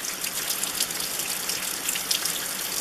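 Rain pours down outdoors on an island, a steady dense hiss of falling water spattering on surfaces, continuous and fairly close with no voices.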